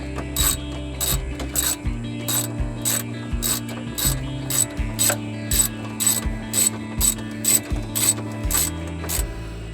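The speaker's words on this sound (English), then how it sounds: "So we've got to keep going at it with the wrench." A hand wrench ratchets on a fuel pump bolt in steady close clicking runs, with the rhythmic pawl ticks broken by brief pauses as the handle swings back and forth.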